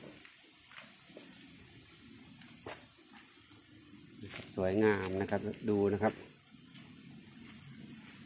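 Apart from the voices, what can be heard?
stream water flowing over rocks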